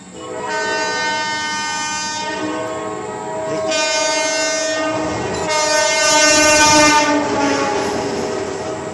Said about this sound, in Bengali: ট্রেনটা উল্টো দিকে চলে গেল